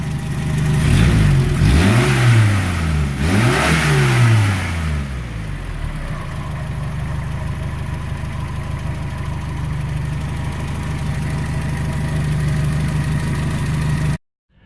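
A Renault Caravelle engine, freshly tuned at the tick over and choke, revs up sharply twice and then settles into a steady, even idle that runs on until it cuts off abruptly.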